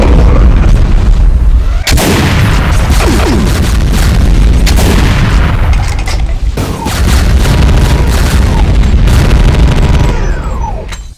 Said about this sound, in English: volleys of BFG 10k shots